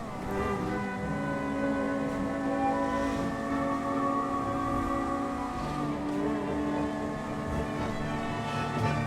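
A Banshee GTS sports car is driven fast around Los Santos in a GTA video game: a steady, loud, high-revving engine whine holds its pitch with gentle shifts throughout, close and continuous, with no talk.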